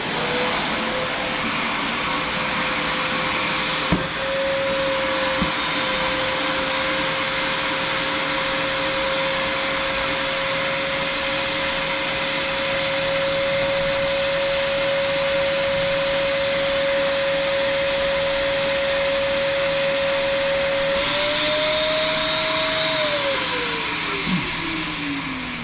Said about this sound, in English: Let me hit it with a wet vac.